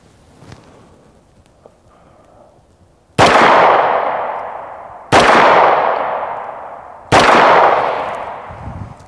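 Three loud 9mm pistol shots ring out against AR500 steel body armor at regular intervals of about two seconds, each a sharp crack with a metallic ring that decays slowly, after a quieter stretch of faint handling noise.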